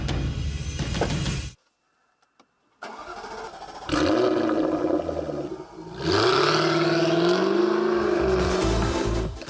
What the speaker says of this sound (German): Der 5 Liter V8 Motor der Raubkatze leistet satte 405 kW